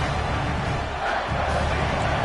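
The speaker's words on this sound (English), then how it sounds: "This crowd is trying to inspire this defense to make a big red zone stop." Football stadium crowd at a Georgia versus Michigan game roaring steadily as a dense, loud wash of noise during a red zone defensive stand, sustained throughout without a break.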